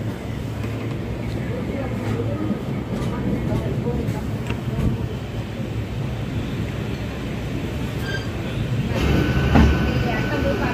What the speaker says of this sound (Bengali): কত বড় ট্রেন রে বাবা